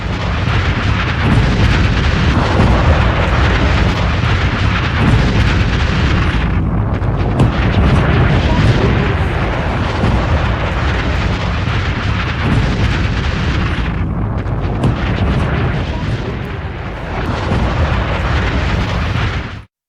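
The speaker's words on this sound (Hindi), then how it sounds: "तेहरान में जोरदार धमाके हो रहे हैं।" Loud, continuous rumbling blasts and booming explosions from bombing in Tehran roll on for many seconds, with brief lulls between heavy, distorted bursts.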